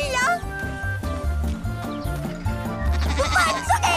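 A cartoon goat bleats over bouncy background music in a children's animated series, giving short nasal cries amid a busy mix of tune and sound effects.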